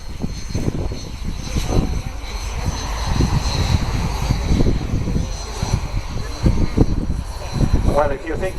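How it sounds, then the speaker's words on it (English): A P-51 Mustang propeller fighter takes off at an airshow, its engine roaring steadily at a distance over crowd and open-air background noise, with voices around. "the next movement we'll see will be one of the two P-51 Mustangs to take off and depart"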